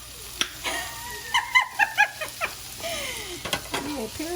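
Fried rice frying in a pan and being stirred, giving a quiet, close sizzle with a run of short scraping and clattering strokes. Faint squeaky, chirp-like sounds come and go, and no clear talking is heard.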